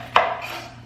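A single knife stroke cutting the bad part off a vegetable, one sharp close chop on a board followed by a brief fading ring, with no talking.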